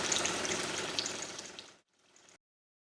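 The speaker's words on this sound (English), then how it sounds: "The appliance carries out a full rinse cycle until the water tank is empty." Water runs steadily with a hissing, splashing flow during a De'Longhi Magnifica ESAM4200 coffee machine rinse cycle, then tapers off and stops after a brief sputter as the tank empties, leaving silence.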